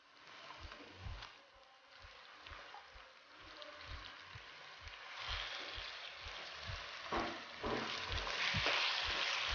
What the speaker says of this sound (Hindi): कीमे को हमने अच्छी तरह भून लेना है प्याज में